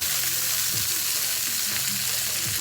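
Vegetables sizzle steadily in hot oil, a dense crackling hiss with occasional soft scraping of a utensil stirring the pan.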